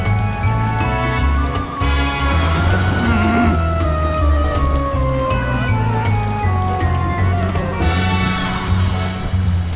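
Rain falling on a fishing boat, a steady patter and hiss over a continuous low engine hum with sustained tonal droning, loud and close throughout.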